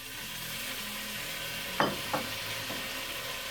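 Microwave-softened food is dumped into a pan, sizzling quietly and steadily with two soft thumps and a scrape as it lands and is stirred; no one talks.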